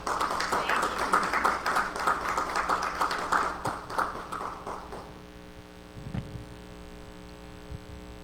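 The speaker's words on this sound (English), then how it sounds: "Calvin, let's give Miss Michelle a great big hand clap" Applause with hand clapping from an audience at a mental health presentation, a dense patter for about five seconds that fades out, leaving a steady mains hum and a low thump near the end.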